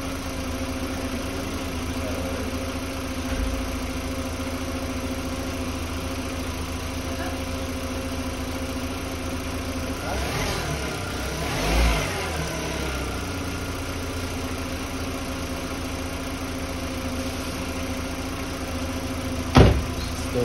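A 2005 VW Beetle engine running rich idles with a steady low hum, then rises through a couple of quick throttle snaps midway before settling back to idle, with a sharp click near the end.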